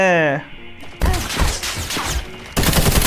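Call of Duty Mobile gunfire erupts in loud, rapid bursts, with a sustained volley and a second sharp burst, mixed with game effects and voices talking over the shooting.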